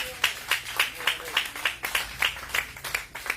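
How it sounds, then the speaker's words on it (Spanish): A church congregation claps together in a steady, even rhythm, about three claps per second, close and moderately loud with no talk over it. "Denle aplauso al Señor."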